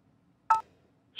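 A single short telephone keypad dialing tone from the Kentucky Route Zero video game, clear and close against near silence, with another tone just starting at the very end.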